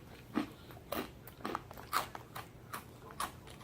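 Close, crisp crunching as Boy Bawang Cornick chili cheese corn snacks are chewed, a steady run of sharp bites and crackles at a chewing rhythm with no talking.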